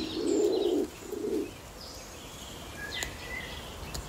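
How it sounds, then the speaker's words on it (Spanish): Soft, low cooing of a Bolle's pigeon, an endangered laurel pigeon of the Canary Islands, in two short phrases followed by faint background birdsong and ambience. "La paloma rabiche."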